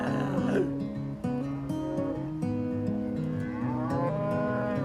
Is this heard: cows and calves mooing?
yes